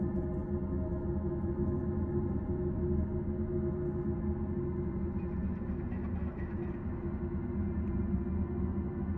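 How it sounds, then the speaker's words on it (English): Unused piano fragment time-stretched into a dense, sustained ambient drone with a steady low-heavy wash and faint shimmering overtones, unbroken and even in level throughout. "I used a unused piano bit and Paul stretched it to hell and back until it sounds like this"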